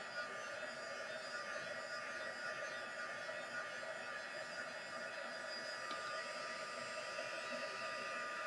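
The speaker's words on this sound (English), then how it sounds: "So our heat gun's got two settings." A heat gun used for card-making craft blows steadily with an even whirring, whining hum throughout, moderately close and with no talking.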